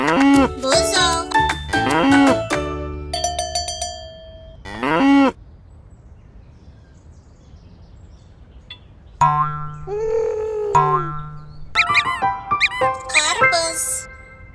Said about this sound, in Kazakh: бұзау,